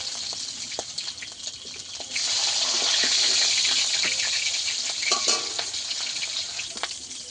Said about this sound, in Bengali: এই যে মাছ এইভাবে ভেজে নিয়েছি, তেলের মধ্যে আমি আর অল্প একটু তেল দিয়ে দেব